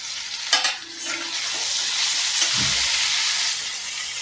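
Ghevda (valpapdi) beans cook in oil in a pan with a steady close sizzle and hiss, and a few stirring scrapes and clinks near the start.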